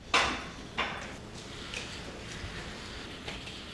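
The humanoid robot Neo fetches a bottle of water from a fridge about ten feet away, making a few close bumps and clunks like a drawer or door being handled, followed by quieter faint shuffling, with no voices.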